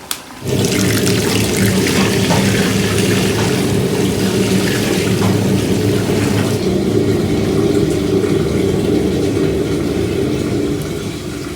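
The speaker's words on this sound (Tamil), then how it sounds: "நல்லா ட்ரை ஆனதுக்கப்புறம் ஒரு 5 லிட்டர் தண்ணி ஊற்றிக்கணும் மட்டன் பிரியாணி" About five litres of water are poured into a large pot of 5 kg mutton biryani at a restaurant in Vaniyambadi, a loud, steady gushing splash that starts abruptly and continues without pause, close to the microphone.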